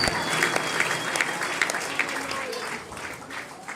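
A church congregation applauds at a service blessing new pastors, dense steady clapping throughout with a slightly uneven rhythm, a voice speaking briefly over it.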